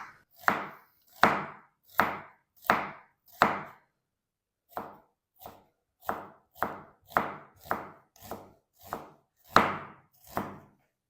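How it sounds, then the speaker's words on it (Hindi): A knife chopping onions into thick pieces for pakora on a cutting board, a close series of about fifteen crisp, evenly spaced chops with one brief pause partway through. "तो सारे प्याज की मैं इसी तरह कटिंग कर लूँ"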